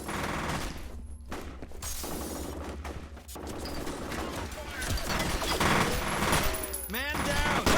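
Rapid gunfire erupts in the shooter game F.E.A.R., dense bursts of automatic fire and sharp cracks in quick succession, close and loud, with a brief voice heard amid the shooting.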